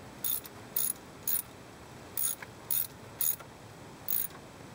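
Ratchet cranking on a Jeep water pump's bolts during a water pump change: seven short, crisp clicking bursts spaced at irregular intervals against a quiet background, with no talking.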